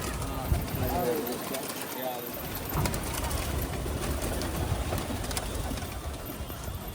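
Racing pigeons coo as a flock is released on a rooftop, steady and mid-distance beneath frequent talking voices.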